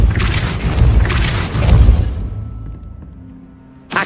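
Depulso spell in Hogwarts Legacy, a loud booming blast with rumbling low end over the first two seconds that then trails off into a fading mechanical tail.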